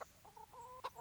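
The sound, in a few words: chickens clucking in video game Kingdom Come Deliverance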